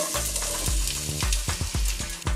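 Chopped onion, capsicum and green chilli sauté in hot oil in a pan for a chilli egg gravy, with a steady loud sizzle and repeated stirring knocks against the pan, and no voices.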